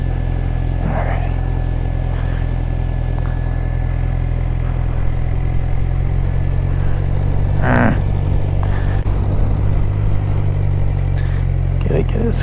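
A sport bike engine idles and burbles at low speed during full-lock turning practice, a steady low drone with small throttle swells, while a person talks over it now and then.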